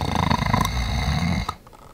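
A voice imitates snoring with one loud, rough, rumbling inhale close up that drops off abruptly at the end.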